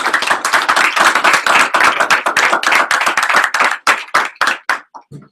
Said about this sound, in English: We give Ricky a round of applause.